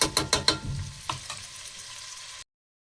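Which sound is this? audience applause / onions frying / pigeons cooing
onions frying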